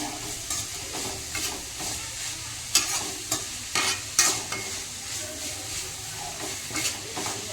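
Grated radish tempering being fried and stirred in a pan, a steady sizzle broken by repeated scraping stirs of a spoon, close and moderately loud, with no talking.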